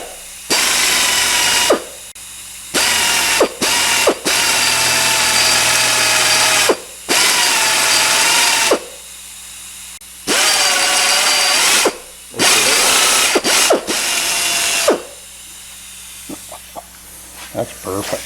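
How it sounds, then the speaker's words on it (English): A drill bores by hand into the blank boss of a 115 outboard motor in loud, sustained whining runs separated by short pauses, close up; voices are faint between the bursts. "we hand drilled down a 1/2 inch deep"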